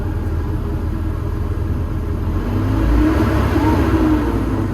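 Engine of a working machine running loud and close with a steady rumbling drone, the pitch rising briefly as it revs partway through.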